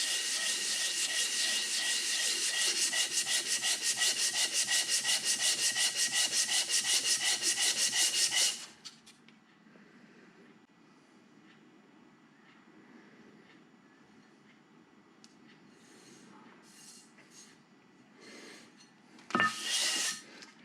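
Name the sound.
belt sander smoothing a metal base casting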